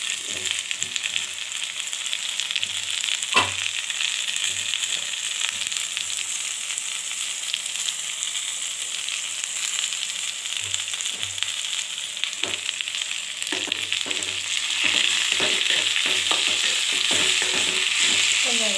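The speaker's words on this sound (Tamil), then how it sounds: "பச்சை நாற்று போகிற வரைக்கும் வதக்கினா போதும்." Curry leaves sizzle and crackle in hot oil while being stirred in a pan, a steady frying hiss with occasional scraping clatters, close up.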